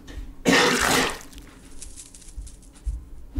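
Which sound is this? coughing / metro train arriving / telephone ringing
coughing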